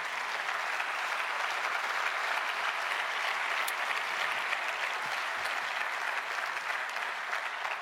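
Sustained audience applause at the closing session of a convention, steady and even for several seconds, fairly distant and moderate in level, with no speech.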